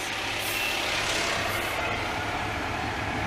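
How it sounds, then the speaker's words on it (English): A fire truck goes by on a street in the rain, a steady heavy vehicle rumble with hissing wash and a faint repeating horn-like tone, loud and close, with no talking. "There's the fire truck."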